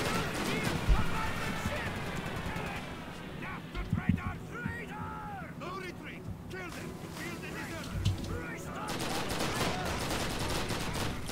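Rapid automatic fire from a PPSh submachine gun in the Call of Duty video game, bursts loud and close amid a dense, chaotic battle mix with sharper cracks around four and eight seconds.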